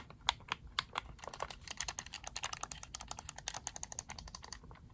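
Rapid clicking of micro switch face buttons and triggers on a QRD Stellar T5 wireless controller, a dense series of sharp, crisp clicks fired off quickly and close, with no voice.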